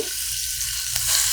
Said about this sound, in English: Put the pork in the pan,